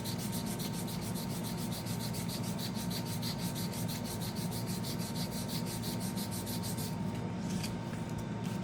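An edge is sanded and rubbed by hand with quick, even back-and-forth strokes, a steady close scratching rhythm that stops just before the end.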